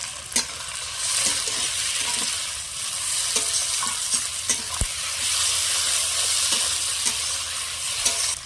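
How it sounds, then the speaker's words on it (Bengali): Onions frying in fish oil with salt and turmeric powder, a steady close sizzle with scattered stirring clicks and spatula scrapes, no voices. "এবার এতে দেবো পরিমাণ মতো লবণ, হলুদ গুঁড়ো দেবো, পেঁয়াজের উপরে এই মাছের তেলগুলো আমি দিয়ে দেবো।"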